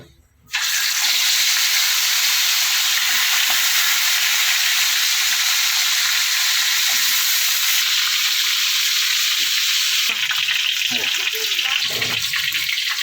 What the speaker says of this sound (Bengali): ডালে বলক চলে আসছে আর একটা ফেনা জেগে গেছে।